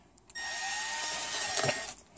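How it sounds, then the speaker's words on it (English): A power drill bores into a shoe, its steady high whine running for about a second and a half with a brief rougher burst near the end, close and fairly loud. "drilling his shoe"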